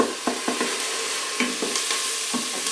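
A teaspoon of chopped garlic fries in an Instant Pot with a steady, bright sizzle close up, broken by light rhythmic stirring taps against the pot.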